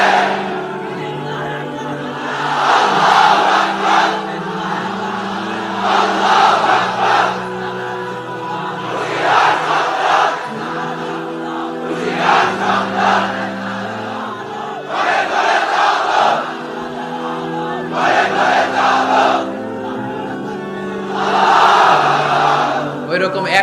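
A large crowd at an Islamic religious sermon (waz) shouts back in unison in loud, repeated bursts of a few seconds each, separated by short pauses, with a voice leading between them.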